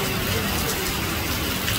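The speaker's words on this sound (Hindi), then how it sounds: "बारिश भारी बारिश" Dense, roaring downpour of heavy rain on a flooded road, a constant loud wash of noise with no breaks, close by.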